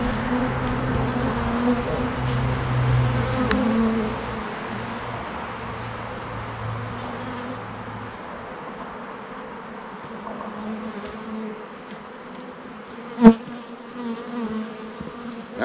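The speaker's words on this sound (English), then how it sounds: "Look how many bees I got already." Agitated bees swarm and buzz around a hive during a winter inspection and feeding, a steady dense hum close to the microphone with a sharp knock near the end.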